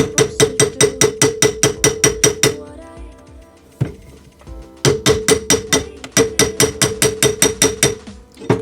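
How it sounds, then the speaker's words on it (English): The back of a hammer handle knocks a ring in rapid, evenly spaced metallic taps with a bright clink. The taps come in two runs around a short break with scattered softer clicks. "You may notice I'm knocking it with the back of the hammer"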